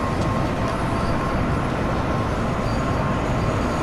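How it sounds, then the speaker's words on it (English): A DB Class 155 electric locomotive in Train Sim World coasts down a slight gradient toward a station with the cab window open, giving a steady, loud rolling rumble that never lets up and has no talk over it. "We're on a minor gradient, so I'm just going to let the train coast."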